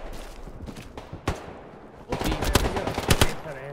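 Machine gun fire in the World War II shooter Hell Let Loose, with sharp scattered shots and then loud, dense bursts of automatic fire close by.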